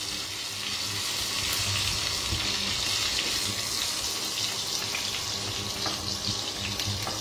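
Paneer-stuffed pointed gourd (patol) frying in hot oil in a pan, a steady, dense sizzle that stays constant and close throughout, with no talking.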